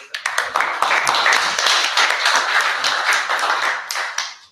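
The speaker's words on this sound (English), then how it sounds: "Big applause for Richard" A workshop audience claps for a guest speaker, dense even applause that swells quickly, holds steady and tapers off at the end.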